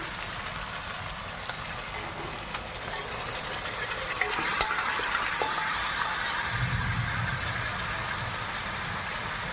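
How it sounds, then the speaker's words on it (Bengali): Chicken dropped into frying spice paste sets off a steady broadband sizzle that swells louder partway through and keeps hissing evenly to the end. "এবার আমি মাংসটার মধ্যে দিয়ে দেবো।"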